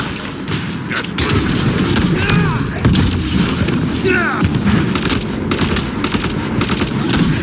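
Grenade blast and sustained gunfire in the shooter game Mass Effect: Andromeda, loud rapid bursts and heavy booms crackling throughout, with brief voices underneath.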